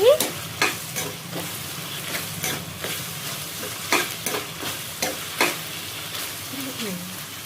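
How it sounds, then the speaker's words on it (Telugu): Softened tomatoes being stirred and mashed in a pan for an Andhra okra tomato curry, a low sizzle under regular spoon knocks and scrapes, close-up, with a voice briefly audible. "ఇప్పుడు క్యాప్ ఓపెన్ చేసి మనం కలుపుకుందాం."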